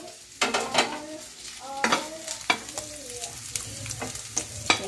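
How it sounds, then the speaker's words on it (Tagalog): Garlic sautéing in a pan for carbonara sauce, with repeated scraping and stirring strokes of a utensil against the pan over a soft sizzle, close and moderately loud. "Gigisa ko yung sauce sa garlic."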